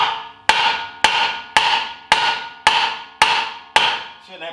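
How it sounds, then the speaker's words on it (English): A hammer strikes a Honda Civic Si axle to drive it into the hub. Eight loud, sharp metallic blows land at an even pace, each ringing out before the next, close up and with no talking. "So I'm going to keep hammering it until it goes in."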